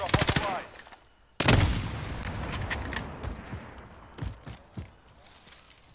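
A sharp, loud rifle shot in Call of Duty Warzone, then a decaying rumble and fainter shots and game sounds, with short bits of talk.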